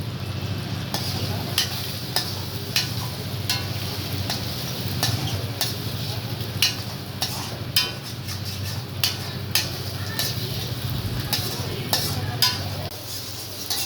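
Egg fried rice stirred in a hot pan, a steady sizzle broken by repeated sharp scrapes and taps of the spatula against the pan, close and fairly loud throughout.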